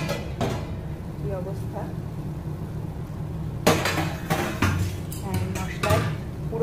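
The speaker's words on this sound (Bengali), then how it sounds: "এবার আমি ঢাকাটা তুলে দেখছি" Metal lid lifted off a cooking pot of spiced masala for a Bengali fish-style curry, a sharp clank followed by a few lighter metallic clinks and scrapes, with a voice talking alongside.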